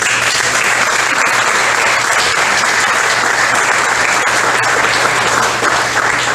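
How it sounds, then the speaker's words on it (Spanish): A church congregation claps loudly and continuously during a Spanish-language sermon, a dense, close wall of applause over several seconds with a low hum beneath and no speech. "Dale un aplauso al Rey."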